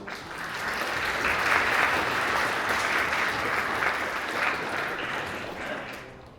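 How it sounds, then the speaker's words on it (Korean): Wedding guests break into sustained applause after the congratulatory speeches, a steady wash of clapping from the whole room that holds for several seconds before easing off slightly. "다시 한번 따뜻한 박수 부탁드립니다"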